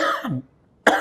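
One person gives a sharp, close cough, trailing off into a rough throaty tail, then a brief breathy burst after a short pause.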